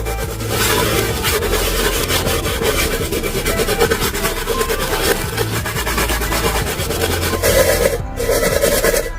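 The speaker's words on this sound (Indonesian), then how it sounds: "kita gesek-gesek dengan menggunakan sabut tembaga ini" Continuous harsh scrubbing of a copper scouring pad against a surface, steady back-and-forth rasping that lasts throughout, loud and close.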